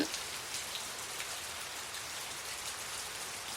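Torrential rain pours down steadily over a remote village, a dense, even hiss of drops striking surfaces that holds constant throughout, with no voices.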